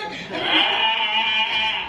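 A goat bleats loudly and close, one drawn-out wavering cry lasting well over a second, with faint background noise.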